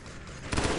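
A burst of gunfire aimed at a Covenant dropship in Halo: Combat Evolved erupts halfway through, loud rapid shots over a continuous rumble of game noise.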